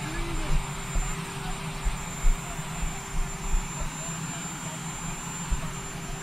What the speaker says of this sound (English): You have to talk up. We have a helicopter.